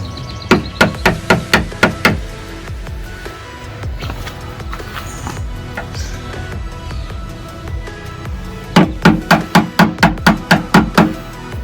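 A screwdriver bashed against a Jeep JLU door hinge to knock a lip off, sharp metallic strikes in two quick rhythmic bursts of about eight hits each, with quieter clanking between them.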